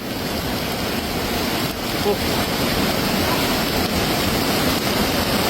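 Rushing mountain flood water roars in a steady, loud, unbroken wash of noise that stays close and constant throughout, with no clear breaks.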